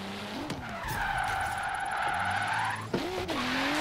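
A race car engine in Forza Horizon 3 revs loudly and steadily while drifting, with tires skidding and squealing briefly near the start and again toward the end.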